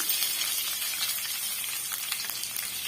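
Sliced onion and dried red chillies sizzle in hot oil, a steady dense crackle of frying with no voices, fairly close and even throughout.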